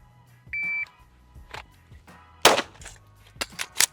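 Pistol shots during a concealed carry draw drill, a short shot-timer beep followed by several sharp cracks, a single loud report and then a quick cluster of three shots near the end, close by.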